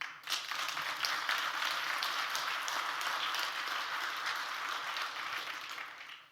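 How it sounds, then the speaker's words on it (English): Audience applause at a summer brand camp social media talk, many hands clapping in a sustained, fairly loud burst that swells quickly and tapers off at the end. "So clap that up."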